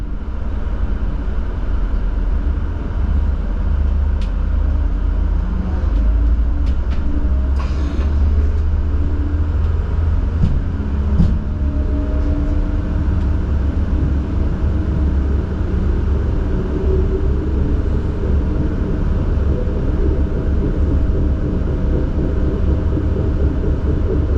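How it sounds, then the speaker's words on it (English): A steady, loud low rumble inside an Alstom Coradia LINT 27 diesel railcar departing a station, with faint rattles and clicks throughout and no voices. "now we can listen to the sound of the train while we are leaving the main station"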